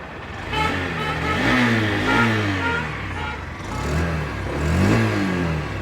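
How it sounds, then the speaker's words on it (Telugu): A 2025 Honda Shine 125 motorcycle engine runs close by, its exhaust note rising and falling in a few revs over a steady idle, with no talking. "ఈ బైక్ యొక్క ఎగ్జాస్ట్ నోట్ అయితే ఒకసారి వినండి"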